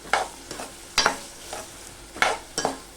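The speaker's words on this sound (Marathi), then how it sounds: "आता व्यवस्थित परतून घेऊया परत" Tomatoes sprinkled with salt are stirred and sautéed in a pan, with several distinct scraping stirs in an uneven rhythm over a soft background sizzle, close and clear.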